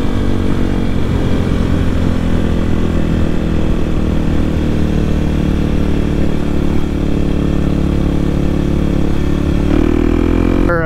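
A Kawasaki KLX300 dual sport motorcycle is being ridden, its single-cylinder engine droning steadily and loudly close up, with a short revving shift near the end.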